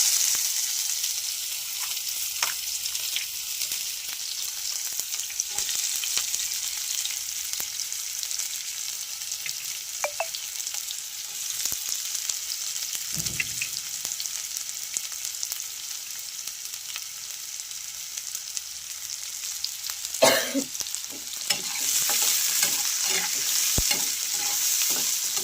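Onion frying in hot oil with garam masala for an egg curry, a steady bright sizzle throughout with occasional spatula scrapes and stirring clatter, close and alone.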